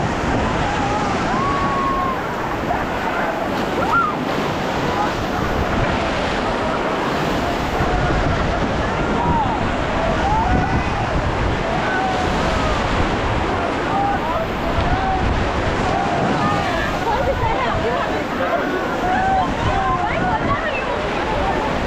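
Loud, continuous roar of whitewater rapids on the river at Rishikesh, Uttarakhand, close and unbroken throughout, with raft splashing and faint voices blended into the rush.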